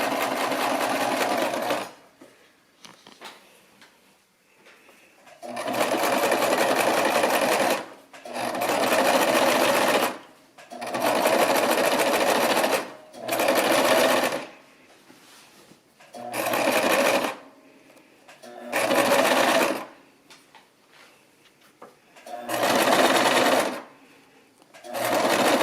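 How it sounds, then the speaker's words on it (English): An electric sewing machine stitching the edge of a fabric envelope pillow runs in loud, close bursts of rapid whirring, stopping and restarting about ten times with short quiet gaps between runs. "We're going to start sewing, and then we're going to back stitch to the edge to make sure it doesn't come out."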